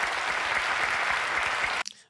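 An audience claps in a dense, steady burst of applause that holds evenly and then cuts off abruptly.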